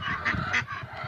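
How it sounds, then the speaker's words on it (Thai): A male laying duck gives a hoarse, raspy quack, two short honking calls close by followed by softer rasping, with no other sounds around it. "ตัวนี้ครับฟังเสียงดูถ้าเสียงแหบอย่างเงี้ย"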